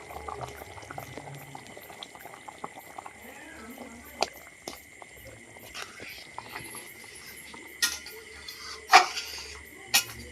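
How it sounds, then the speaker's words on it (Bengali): Chicken curry gravy simmers in a pot with soft, irregular bubbling pops and occasional sharper clinks, quiet and close. "মাংসের ঝোলটা ফুটে গেছে"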